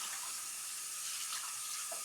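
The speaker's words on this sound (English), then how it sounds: "Likes the pouring water." Continuous stream of water pouring from a tap into a baby bath, a steady hissing splash heard close up with no voices.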